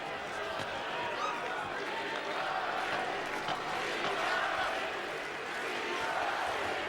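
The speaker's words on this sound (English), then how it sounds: "The crowd in Berlin chanting Klitschko's name." At a heavyweight boxing bout in Berlin, a large arena crowd chants Vitali Klitschko's name, a dense, fairly distant roar that stays steady for several seconds while a commentator's voice runs over it.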